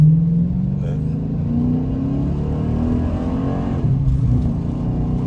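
A 2014 Dodge Challenger R/T engine roars and revs as it accelerates hard in the rain, pitch climbing steadily, with a brief shift dip near the end.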